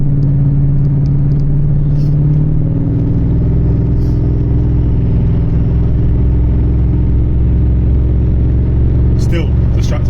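A supercharged V8 in a Jaguar XJR X308 idles steadily and close by, giving a continuous low rumble that shifts slightly in pitch. It runs alone for most of the clip.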